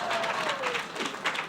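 Commencement ceremony audience at a healthcare university breaks into brief applause, a soft wash of clapping with a little crowd murmur, fairly quiet and distant.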